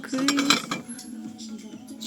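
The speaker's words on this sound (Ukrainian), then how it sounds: "Дивіться, який посуд. Гарні такі всі тарілочки" Ceramic plates and dishes are handled on a store display, giving a few light clinks and taps early on that fade into a quieter background hum while a person talks faintly nearby.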